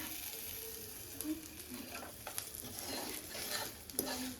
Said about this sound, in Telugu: నువ్వులకు కూడా సౌండ్ కూడా వస్తుంది చిటపటని